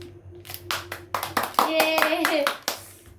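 Several people clap hands in short uneven bursts for the winner of a home balloon-popping game, mixed with children's chatter and a brief excited voice.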